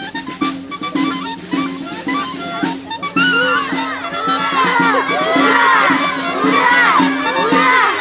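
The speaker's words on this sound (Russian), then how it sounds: "Участники акции встретили героев восторженными возгласами и бурными аплодисментами." Crowd at a Victory Day relay rally cheering and shouting to greet war veterans and former concentration camp prisoners, a loud mass of excited voices rising and sustained, with a steady tone running beneath.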